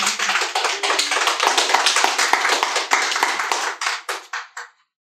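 A workshop audience claps together in a loud, brisk burst that holds steady, then thins to a few scattered claps before stopping abruptly.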